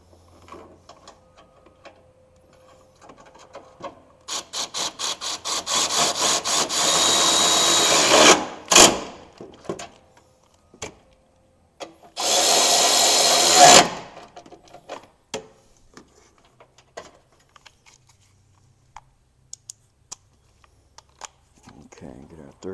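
Power tool drives bolts with a magnetic socket during radiator core support work on a 2008 Honda CR-V, two loud whirring bursts of a few seconds each with a short gap, then quieter clicks and handling noises.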